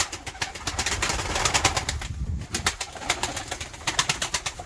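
Tumbler pigeons in a coop coo steadily and repeatedly, fairly close, with soft rustling and small sounds of movement around them. No one speaks.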